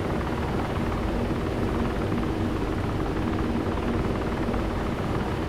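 A V-22 Osprey tiltrotor in Arma 2 flies with a steady loud rotor roar and whine, a continuous thick drone close by with no letup.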